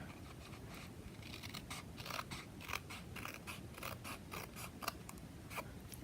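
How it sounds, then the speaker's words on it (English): Scissors trimming a strip of white cardstock for a handmade Father's Day card, a run of quick, close, crisp snips and papery crunches against a faint steady background hiss. "I'm just gonna take my scissors and just trim that off."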